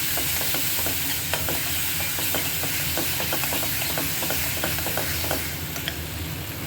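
Spinach sizzles loudly in a pan while it is stirred, with a dense, constant frying hiss broken by frequent light ticks and scrapes of the spoon.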